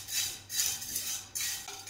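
Maggi noodles are stirred and sautéed in a pan, with a utensil scraping and clinking against the metal in short uneven strokes and no talking.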